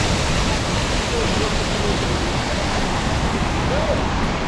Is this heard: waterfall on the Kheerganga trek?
yes